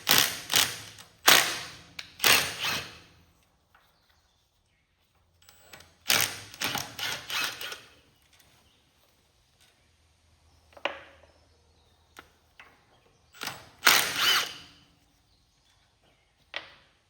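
Ratchet wrench with a 5/16 socket loosening stator bolts on a Kohler KT17 engine from a Cub Cadet 782 tractor, heard as several short bursts of close, rapid clicking separated by quiet pauses.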